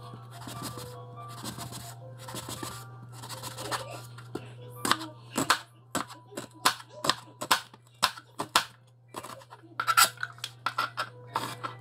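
A knife slicing food thinly for guacamole on a cutting board, steady series of crisp taps and scrapes that quicken in the second half, close and fairly quiet over a low constant hum.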